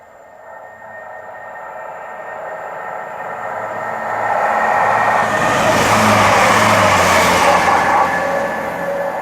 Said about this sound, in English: the 1547 Great Western Railway service from London Paddington to Great Malvern